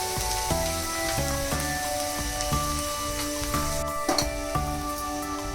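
Onions being sautéed in a pan for pav bhaji, a soft continuous sizzle heard beneath a steady musical background, with occasional stirring clinks.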